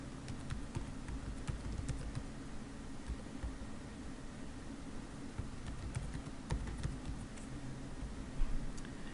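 Typing on a computer keyboard to fill in a name on a website sign-up form: soft, scattered key taps at an irregular pace over a steady low room hum, no speech.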